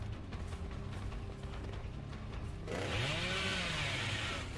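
Bubba's chainsaw in the Dead by Daylight video game roars up partway through, a loud revving snarl with rising and falling pitch over a steady background din.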